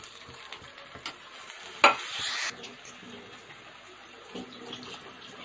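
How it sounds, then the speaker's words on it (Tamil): Coconut milk poured into a pan of sautéed mixture raises a short, bright sizzling rush midway, framed by soft scraping and stirring sounds in a quiet home kitchen. "இப்போ நான் தேங்காய் பால் ஆட் பண்ண போகிறேன்."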